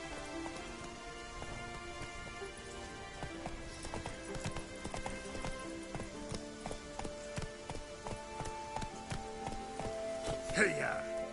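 Roach, the horse in The Witcher 3, gallops with quick, rhythmic clip-clopping hoofbeats over a patter of rain, and a voice speaks briefly near the end.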